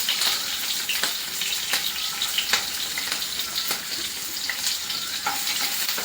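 Paneer and baby corn manchurian fry in a pan over medium heat with a continuous bright sizzle. Periodic scraping and stirring clicks punctuate the sizzle, with no voices.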